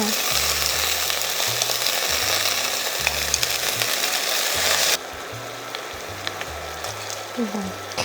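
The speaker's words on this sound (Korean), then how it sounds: "이렇게 색깔 날 때까지 구워줘요" Ingredients pan-frying until browned, ahead of making pot rice, give off a steady, dense sizzle that holds unbroken for the whole stretch, with a low musical background beneath.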